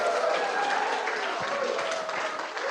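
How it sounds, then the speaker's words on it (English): Audience applauding yoga athletes at a studio's 23rd anniversary party, a steady wash of clapping hands filling the room from start to finish with some faint murmuring mixed in. "let's give a round of applause for our yoga athletes"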